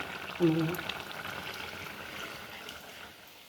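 Fish curry bubbling in a pot as coconut milk is added, a soft simmering burble with a brief louder splash near the start that fades to a quiet, steady boil.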